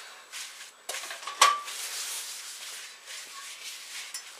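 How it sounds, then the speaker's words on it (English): Paper napkins wiping a skillet, heard as soft close rubbing and scuffing strokes with a small knock against the metal partway through. "go ahead and wipe that whole skillet"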